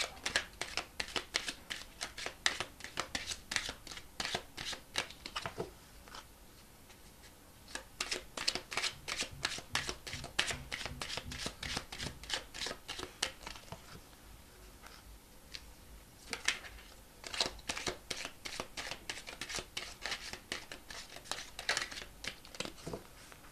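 Playing cards are shuffled and drawn in rapid, crisp riffling bursts that run almost continuously, with a brief lull midway, close and fairly quiet, with no voices.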